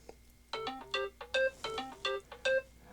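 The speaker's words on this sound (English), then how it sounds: "there goes the phone going off." A telephone ringtone goes off indoors, a bright electronic melody of repeated short tonal bursts, about seven in quick succession, fairly clear over a quiet background with a low hum.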